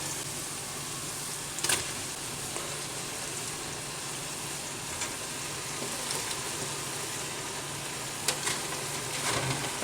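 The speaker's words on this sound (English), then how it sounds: "I'm gonna start adding our roasted potatoes and leeks" Roasted potatoes and leeks are tipped into a pot of cooked onions and stirred, giving a steady close sizzle with a few soft clatters and scrapes along the way.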